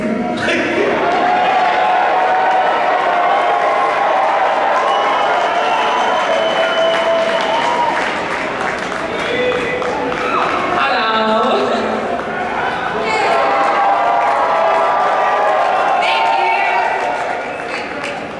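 A large convention crowd at the 2015 Calgary Expo yelling and cheering continuously in a dense roar of voices with scattered clapping, loud throughout.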